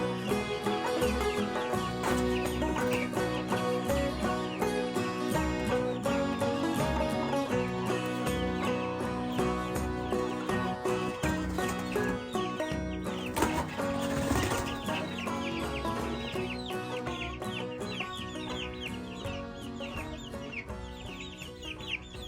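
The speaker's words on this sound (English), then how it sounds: "Those two guys look like roosters." Chickens cluck and chatter continuously for the whole stretch, several birds close by with overlapping calls and no talking.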